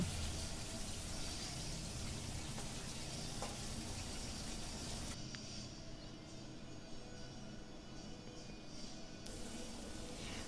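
Pieces of rohu fish rubbed with turmeric and salt fry in hot oil, a steady, dense sizzle that carries on without a break and eases slightly partway through.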